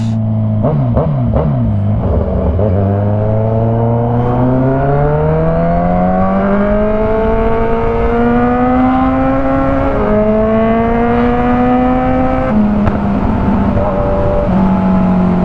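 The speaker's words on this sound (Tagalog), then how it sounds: "Ang sarap ng backfire niya no?" A loud, close motorcycle engine revs hard, its pitch climbing steadily through long pulls with a couple of drops between, and sharp popping bursts near the start.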